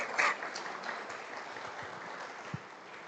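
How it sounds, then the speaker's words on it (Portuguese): A church congregation at a Portuguese-language service applauds a visiting mother. The clapping is soft and distant, forming a low, even wash with a brief louder burst at the start and a single sharp knock near the end. "Um aplauso, Senhor, pela vida dela."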